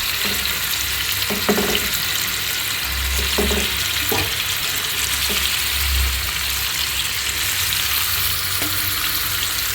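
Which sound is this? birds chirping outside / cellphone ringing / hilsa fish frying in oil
hilsa fish frying in oil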